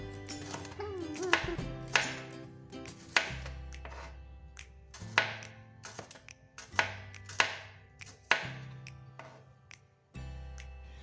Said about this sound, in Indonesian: sekarang aku akan mengiris bumbunya seperti bawang merah, bawang putih